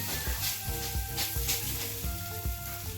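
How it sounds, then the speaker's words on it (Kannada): Thalipeeth dough sizzles steadily on an oiled tawa, a loud, continuous crackle with small pops close up and no voices. "ಈಗ ಅದನ್ನು ಸ್ವಲ್ಪ ತವಾಗೆ ಎಣ್ಣೆ ಹಚ್ಚಿ ಅದನ್ನು ತವಾಗೆ ಹಾಕಿ ಹಾಕುತ್ತೇವೆ"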